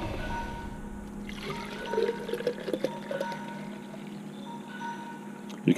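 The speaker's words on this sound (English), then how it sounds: "So we're gonna fill up your quart bottle." Fountain solution poured into a quart bottle for a printing press, a soft close liquid pour and trickle with a few brief splashing bursts midway.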